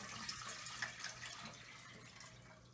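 Four cups of water poured into a cooking pot for black beans and rice, a faint, brief trickling splash with small bright droplet sounds that taper off, no talking.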